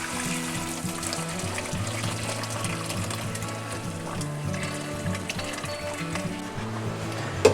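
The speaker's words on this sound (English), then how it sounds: "now we have to strain the berries out. So I'm going to use just a screen strainer to do that" Cooked elderberry juice pours steadily through a screen strainer, a continuous close trickling and splashing stream with a low background hum throughout.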